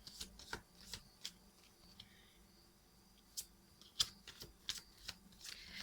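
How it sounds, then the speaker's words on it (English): Tarot cards are shuffled close by, with a string of crisp riffles and flicks at irregular intervals over a quiet background. No one speaks. "I feel like pulling a chakra healing crystal card for you guys."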